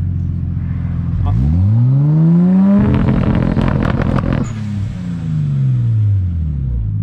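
A Nissan Skyline R33 sports car engine revs hard up through the gears, rising into a loud raspy roar, then drops and climbs again, close and powerful.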